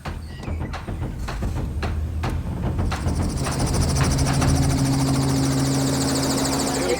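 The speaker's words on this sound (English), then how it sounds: "Here goes the chopper" A yellow helicopter's rotor thumps steadily, growing into a loud whining turbine roar as it spins up during an elephant collaring operation, close and continuous with no talking.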